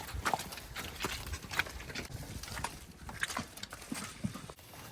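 A cow's hooves clopping steadily as it walks out of a barn toward an open field on a farm, a repeated rhythm of fairly close footfalls over a low background hum.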